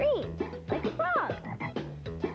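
Cartoon-style frog croaks, a quick run of repeated throaty ribbits with rising and falling pitch, close and clear over a faint background of children's program music.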